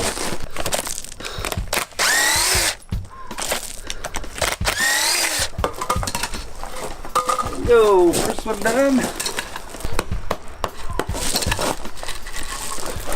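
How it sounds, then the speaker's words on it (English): Repeated hammer blows bang against wooden paver forms at the screw points in irregular bursts, with clattering and a man's brief speech in between. "with my trusty hammer here, I'm just gonna start banging like right where the screws are"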